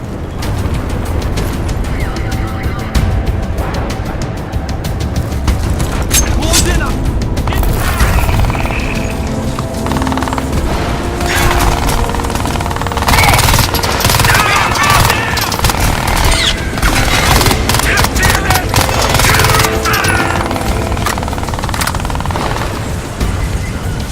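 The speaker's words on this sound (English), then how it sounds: "Make sure you keep it steady when firing." Loud bursts of automatic rifle fire in Crysis 3, rattling rounds mixed with booms and mechanical clatter across the whole stretch, with someone talking over it.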